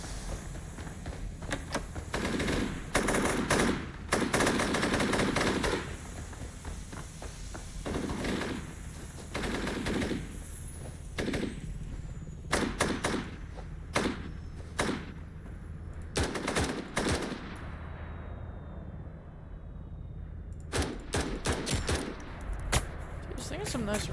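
Rifle fire from an M16A2 clone in the shooter game BRM5 comes as repeated rapid bursts and single cracks over the whole stretch, with short pauses between volleys. Voices talk in the gaps.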